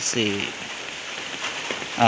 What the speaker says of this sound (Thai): ฝนก็ยังตกอยู่